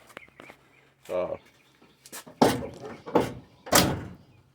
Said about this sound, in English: Doors closed pretty good.